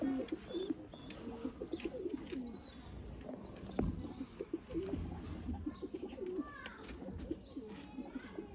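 Breeder pigeons cooing in a loft, soft repeated low coos overlapping from several birds at close to middle distance, with a faint chirp now and then and a low voice talking under them.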